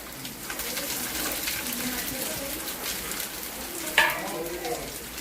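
Chopped raw onion and garlic frying in a pan for a mixed-fish pan chorchori, a steady close sizzle throughout with a brief sharper crackle burst near the end, no talking.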